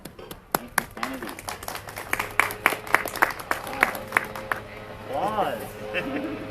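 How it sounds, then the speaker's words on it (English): Scattered, uneven claps from a small audience at a school gathering, individual hand strikes spaced out rather than a full ovation, with voices talking in the background. "Applause"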